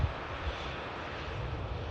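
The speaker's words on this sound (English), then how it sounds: "As the aircraft taxis into, I believe, Terminal 1." A jet aircraft taxiing at Manchester Airport, its engines giving a steady low rumble and broadband roar that stays constant and moderately distant throughout, with no talk.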